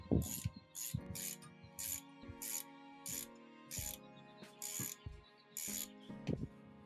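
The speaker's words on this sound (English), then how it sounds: "We'll use the spring compressor to get the spring compressed," A spring compressor is ratcheted down on a VW Beetle strut during lowering work: close, crisp ratchet clicks in repeated short strokes, each stroke followed by a brief pause, with no talking.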